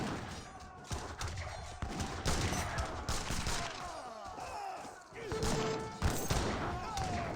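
Musket gunfire from Age of Empires 3 soldiers shooting down villagers, irregular volleys of sharp cracks and thuds over a busy battle din, with a voice talking underneath.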